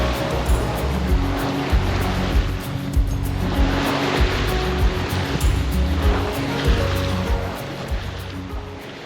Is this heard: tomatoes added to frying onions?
no